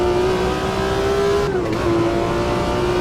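Race car engine in Automobilista 2, a loud sustained high whine that holds steady, dips briefly as if shifting, then resumes at a near-constant pitch, with no talk.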